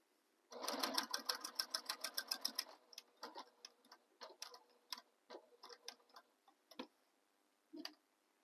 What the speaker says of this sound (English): I'm just stitching directly on top of that center mark I made